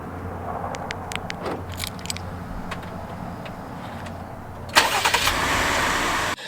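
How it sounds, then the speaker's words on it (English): A Jeep Grand Cherokee engine starts remotely from the key fob, and after a stretch of quiet background ambience it catches with a sudden loud burst. It then settles into a steady, fairly close idle. "From my keys, I can auto start my car."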